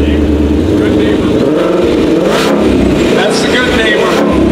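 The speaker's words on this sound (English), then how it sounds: "you can hear this unique Shelby Mustang roar" A 2020 Shelby GT500 Mustang roars loudly up close as it revs through its exhaust modes, deep throbbing bursts rising and falling while people talk over the engine.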